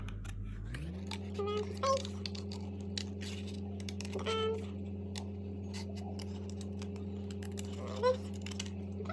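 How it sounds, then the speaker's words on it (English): Scissors snip through paper while cutting out a small dragon craft, a few faint crisp clicks and snips over a steady low hum in the background. "Then I'm going to go back and carefully cut out."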